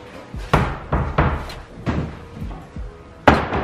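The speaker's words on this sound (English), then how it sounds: "I'm gonna close the door. Let's close the door." A door being closed with several heavy thuds and slams in a row, close and loud, irregularly spaced, ending in a final hard slam.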